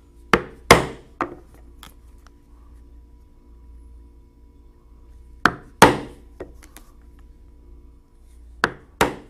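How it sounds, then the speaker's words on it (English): Leather being punched for sandals, small holes struck with a hammer-driven punch: sharp, close knocks in short clusters of two or three, separated by quiet pauses. "then I will punch some 1/8 inch holes where I will attach"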